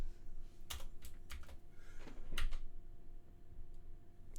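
Computer keyboard typing in a room, scattered key taps in small bursts rather than a steady run, fairly close and clear with low background hum.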